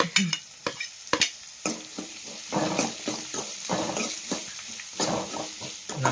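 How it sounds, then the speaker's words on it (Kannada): Finely chopped onions go into a hot pan for a tomato chutney and fry steadily, with repeated scraping stirs from a spatula and a soft sizzle running underneath, all close up and with no talking. "ಈಗ ಸಣ್ಣಗೆ ಹೆಚ್ಚಿದ್ದು ಈರುಳ್ಳಿಯನ್ನ ಹಾಕ್ಲತ್ತೀನಿ ನೋಡ್ರಿ."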